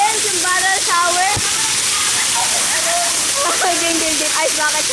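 Water gushes steadily from a barrel shower during an ice bucket challenge, a continuous loud splashing wash throughout, with people talking and exclaiming over it.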